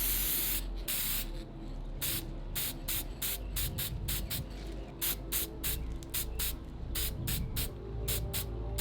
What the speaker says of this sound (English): Now we have to spray each item with acrylic coating after the paint dries.